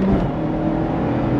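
A 2024 Mazda MX-5 accelerates on the road, its engine a loud, steady, low droning growl heard from inside the car, with no talking.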